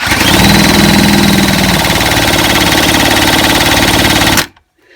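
A 1970s Puch E50 two-stroke moped engine turns over with a loud, steady rapid chatter that holds for over four seconds, then cuts off abruptly into near silence.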